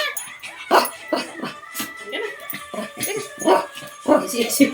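Missy, a dog, barks, yips and whimpers excitedly in quick repeated bursts at close range, with people talking over the commotion.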